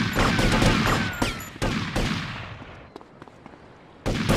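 Gunfire in GTA Vice City: loud, rapid overlapping shots and bursts close by, thinning into a fading echoing tail before another sharp volley erupts at the end.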